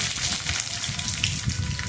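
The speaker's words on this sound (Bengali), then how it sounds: "একটু ভাজা হবে, তারপরে পেঁয়াজগুলো দেবো।" Garlic sizzling in hot oil in a pan with panch phoron and a little sugar, a steady close crackle and hiss throughout with no talking.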